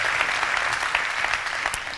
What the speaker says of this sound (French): nous pouvons évidemment vous applaudir à nouveau